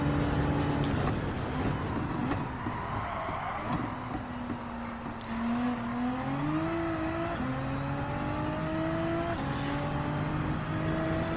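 In the Gran Turismo 7 racing game, a Nissan GT-R Nismo GT3 race car drives with a steady droning engine note that rises and falls through gear changes, loud and continuous throughout.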